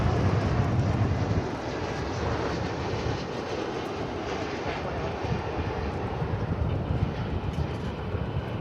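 A Boeing 777 airliner at DFW Airport fills the scene with a steady, broad engine roar and rumble that holds constant throughout, with no talking.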